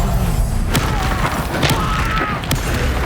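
A Confringo spell explosion in the video game Hogwarts Legacy, a loud close boom followed by a few sharp cracking impacts over dense game ambience.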